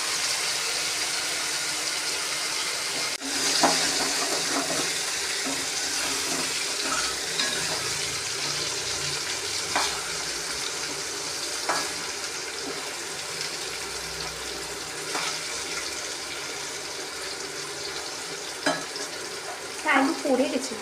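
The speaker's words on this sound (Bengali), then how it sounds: "এটাকে থেকে থেকে একটু নাড়িয়ে দিতে হবে যাতে লেগে না যায়।" Potato and cauliflower frying in a pan give a steady, close sizzle, with occasional scrapes and clinks as the mix is stirred now and then to keep it from sticking.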